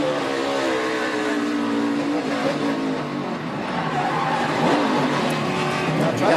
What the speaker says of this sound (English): a little contact sent him spinning the wrong way